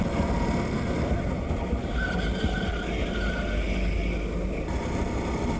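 Racing go-kart engines droning during a race at Varna Karting, a continuous close buzzing motor noise with faint higher engine whines from nearby karts.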